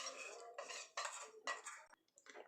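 A spoon mixes custard powder into milk in a bowl, making a quick run of scraping and clinking strokes in short bursts, close but quiet, with no voices.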